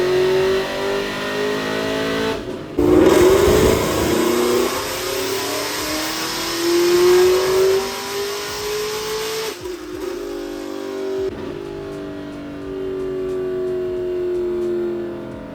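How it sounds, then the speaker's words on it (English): A supercharged Pontiac G8 on E85 fuel makes a fourth-gear dyno pull, its engine note climbing steadily in pitch as it revs from low to high, loud and close, then cutting off as the dyno slows. "let's do an actual fourth gear pull"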